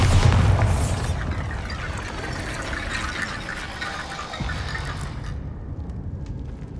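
A Bombarda blasting spell goes off in Hogwarts Legacy against a barricaded archway, a heavy close boom followed by rumbling debris that slowly settles and fades.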